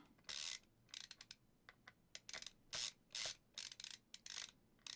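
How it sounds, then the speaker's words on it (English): Small screws being worked out of a Steam Deck handheld gaming console, giving a run of short, close ratcheting clicks in irregular bursts, alone with no voices. "apparently just removing these screws will do it"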